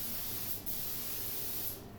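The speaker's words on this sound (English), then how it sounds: "So we just spray another couple coats on here." Spray gun lacquering a Bach 42 trombone during refinishing, a steady close hiss of spray running continuously with a brief dip partway through, alone without voices.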